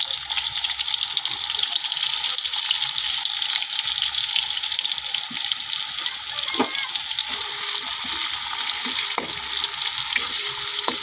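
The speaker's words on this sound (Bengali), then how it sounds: "এতে যা তেল রয়েছে এই তেলেতে হয়ে যাবে। ওর পেঁয়াজটা দিয়ে দিলাম।" Sliced onion sizzles steadily in hot oil left over from frying potatoes, a close, even crackle with a few brief clinks of utensils.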